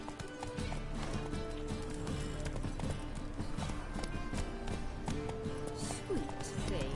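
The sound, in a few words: horse galloping in The Witcher 3 video game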